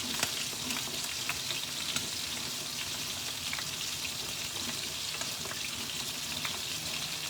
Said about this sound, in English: you got to keep stirring that to make sure it reduces properly